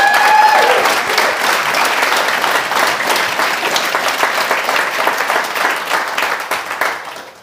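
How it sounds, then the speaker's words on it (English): Conference audience giving a round of applause: dense, loud clapping from many people at once, held steady for several seconds before tailing off at the end. "let's just give them one more round of applause."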